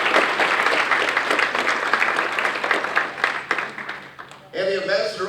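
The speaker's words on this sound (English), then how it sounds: "Let's give these folks a big round of applause." Sustained audience applause fills a chamber of commerce dinner hall, steady broadband clapping from a large crowd that fades after a few seconds before a voice begins speaking.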